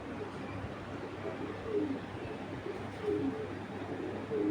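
Low, soft cooing from a nearby domestic pigeon comes in short repeated phrases over steady background hum.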